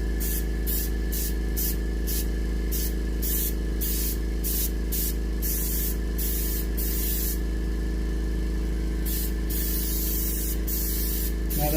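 A paint spray gun hisses onto a muskie fish mount in a quick run of short, regular bursts, then one longer sustained spray and a few more bursts, loud and close over a steady background hum.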